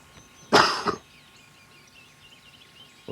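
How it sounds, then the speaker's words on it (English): A cameraman coughs loudly while filming wild turkeys, a single close burst of two or three rough coughs, then quiet outdoor background. "the cameraman had to laugh at this, and he even coughed quite loudly"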